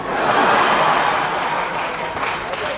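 A crowd at a Rwandan stand-up comedy show claps in steady, dense applause that stays loud and close throughout, with a slight dip near the end.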